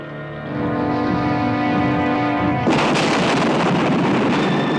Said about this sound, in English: The explosion tears through the bunker, killing him instantly.